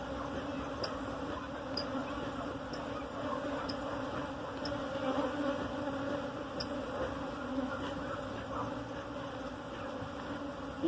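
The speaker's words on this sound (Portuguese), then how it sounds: "Que é abelha mesmo, agressiva" Steady, dense buzzing of an aggressive honey bee swarm around beehives being checked for ripe honey, a continuous close drone with individual bees passing near, no voices.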